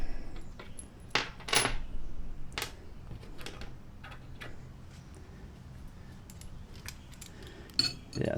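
A small metal washer clinks and taps as it is handled while a lawn aerator shoe is built, giving scattered light metallic ticks and a few louder clacks against a quiet outdoor background.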